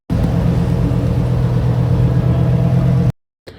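A loud, deep Lamborghini engine rumbles steadily up close at a car meet for about three seconds, then cuts off abruptly.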